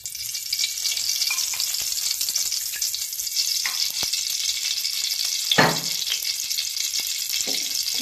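Oil heats in a pan for frying whole spices for green pea kochuri, making a continuous bright hiss. One louder spatter stands out partway through, and nobody speaks.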